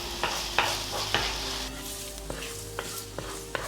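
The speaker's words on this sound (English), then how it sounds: "placing in the onions and the garlic" Onions and garlic sizzling in olive oil in a hot pan, a continuous close frying hiss broken by regular scraping taps of a utensil as they are stirred.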